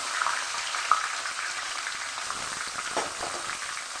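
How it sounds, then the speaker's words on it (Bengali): Onions frying in mustard oil and ghee with bay leaves: a steady, even sizzle heard close, with faint stirring scrapes and a couple of small pops. "পেঁয়াজ তেল দিয়ে আমি ভালো করে পেঁয়াজটাকে লাল করে ভেজে দিচ্ছি তেলে"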